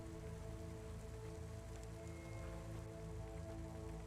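Steady rain falls in the rainy city of the video game Cloudpunk, an even, continuous hiss of drops held at a constant level over a low droning tonal backdrop, with no voices.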